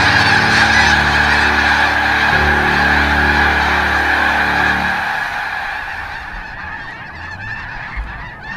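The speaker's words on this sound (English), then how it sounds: "the snow geese arrive here in the Pacific Northwest by the tens of thousands" Tens of thousands of snow geese in Skagit Valley, Pacific Northwest, honk in a dense, continuous chorus, loud and steady before gradually thinning and fading toward the end.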